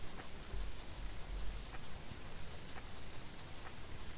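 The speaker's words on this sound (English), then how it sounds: "Now, fighting against hail sucks." Hail pelts down steadily in the Orcish Inn video game as a faint, constant hiss with a few scattered ticks of individual stones.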